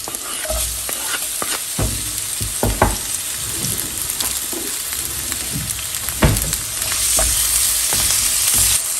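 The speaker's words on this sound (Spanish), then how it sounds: "Voy a agregar una cebolla en medias lunas." Onion half-moons fry and sizzle in a pan, with a steady crackling hiss broken by scraping stirs and clinks of a utensil against the pan, close up and with no talking.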